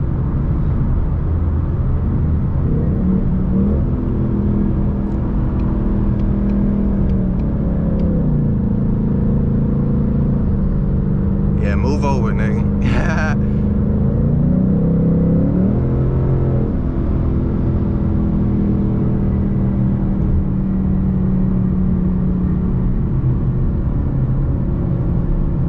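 A Ford Mustang GT engine drones steadily from inside the car while driving through traffic at night. The loud, constant rumble rises and falls a little with acceleration, and a brief higher chirp cuts through midway.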